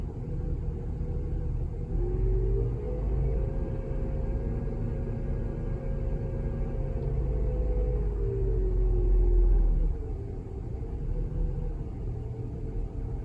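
A 1993 Chevy Lumina APV engine idling with a faulty idle air control motor, a close, steady low rumble with a hum that drifts slowly up and down in pitch.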